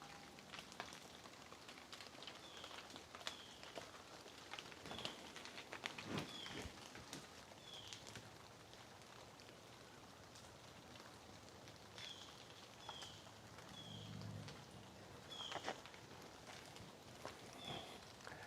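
Steady rain patters on surfaces around a peaceful outdoor spot, a continuous soft hiss with scattered drips and occasional louder taps, plus faint distant chirps and a low rumble midway.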